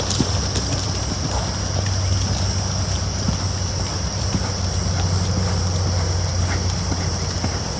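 Crioulo horse being ridden at a steady pace, its hooves clip-clopping in an even rhythm over a constant background hum, with a voice talking faintly in places.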